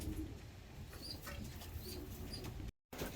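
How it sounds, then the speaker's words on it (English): Pigeons or doves in an aviary give soft, repeated coos over a steady background hum. A few wing flaps and faint chirps are mixed in, and the sound cuts out briefly near the end. "a little look at all the birds that are sort of on this side, just cruising along"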